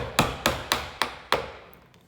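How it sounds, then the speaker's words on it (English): Five light chisel taps strike wood while a rebate is cut for a lamp project, evenly spaced and close, each a sharp knock with a short decay, followed by a brief quiet tail. "It might sound like I'm hitting this hard, but I'm really not. Just light taps is the best way."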